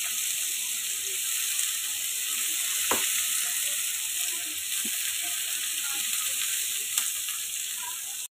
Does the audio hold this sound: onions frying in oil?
yes